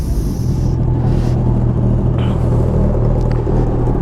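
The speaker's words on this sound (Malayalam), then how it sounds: "അടുത്ത് ഇതാ മറ്റേ 2 ബ്രദേഴ്സിൻ്റെ എക്സോസ്റ്റ് ആണിത്" Motorcycle exhausts, including a Honda CBR1000RR among riders on a Bangalore breakfast ride, rumble steadily and loudly as a continuous low drone with no talk.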